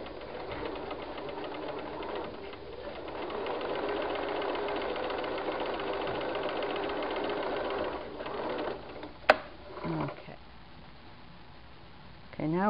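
A sewing machine stitches a seam on an inset corner, running steadily and close for several seconds before stopping, followed by a few soft handling clicks and faint rustles.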